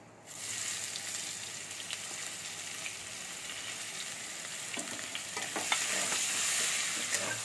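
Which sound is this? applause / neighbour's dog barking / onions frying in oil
onions frying in oil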